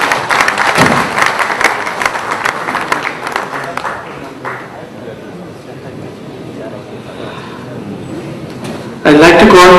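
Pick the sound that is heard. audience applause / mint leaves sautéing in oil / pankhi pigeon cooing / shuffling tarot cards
audience applause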